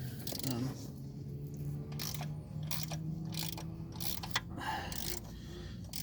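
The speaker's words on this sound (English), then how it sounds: "3-inch 3/8 extension on a pivot head ratchet, so just makes things a little bit easier" A pivot head ratchet fitted with a 3-inch 3/8 extension and deep well socket works on a 1983 Chevy K5, giving close, uneven clicking bursts over low mechanical hum.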